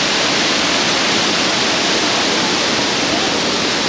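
The waterfall on the North Johnson River roars in a loud, steady, broadband rush of falling water, close and unbroken, with no voices.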